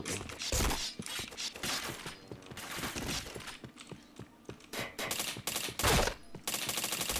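Gunfire rattles in a shooter video game, rapid bursts of shots and mechanical clacks that come in uneven clusters, fairly quiet overall with no speech.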